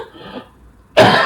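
A single sharp cough bursts out close by after a faint murmur, short and loud against near silence.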